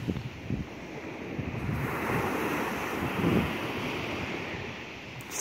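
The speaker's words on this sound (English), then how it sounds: "visualizing the salt water waves just washing over you, cleansing, purifying," Salt water ocean waves wash and surge continuously at a steady, moderate level, with a broad hiss of surf and some wind rumble and no voices.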